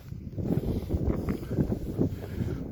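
Outdoor wind buffeting a microphone, a continuous low rumbling roar that swells and eases in gusts, loud and close with no talking.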